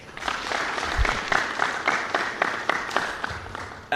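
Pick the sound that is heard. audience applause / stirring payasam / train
audience applause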